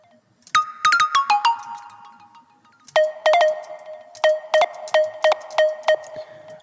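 FM synthesis plucks play bright, bell-like notes with short decays, first in a quick descending run and then in a steady repeated rhythm, loud and alone.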